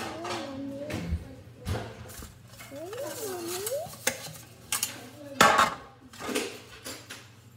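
A spoon stirs cake batter in a bowl, with repeated scraping and clinking against the sides in irregular strokes, close and fairly loud over a low background hum.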